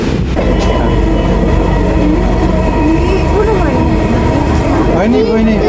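A Dhaka MRT metro train pulls into an elevated station with a loud continuous rumble and rising electric whine, while people talk over it.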